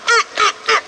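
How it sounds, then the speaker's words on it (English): Three loud, nasal honking quacks come in an even rhythm from a duck at a park, close by and with no talking. "Jeffy, that's a duck."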